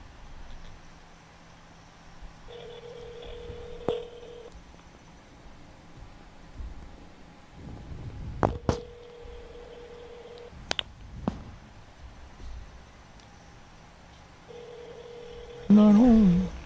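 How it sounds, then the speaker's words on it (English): A telephone ringback tone on speakerphone sounds twice with a long pause between, faint over light handling noise and clicks. "It's ringing."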